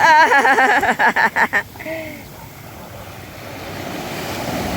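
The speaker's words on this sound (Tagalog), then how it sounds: "Okay, malakas sa alon. Oh, diyan lang, malakas sa alon." Ocean waves roar and wash steadily, with a voice calling out briefly at the start before the surf takes over.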